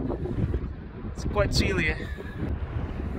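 Steady low wind rumble buffets the microphone throughout at Meradalir volcano, Iceland, with a person speaking briefly over the gusts.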